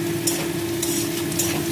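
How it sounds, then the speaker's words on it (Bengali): Carrot and beetroot being stir-fried in a pan, a steady close sizzle with repeated scraping strokes of a spatula against the pan. "আর অল্প করে গাজর আর বিট ভাজা করছি"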